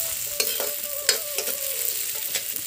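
Ginger garlic paste, pounded in a mortar, frying in oil in a village kitchen, with a steady hiss and sizzle and several sharp scraping stirs of the spoon against the pan.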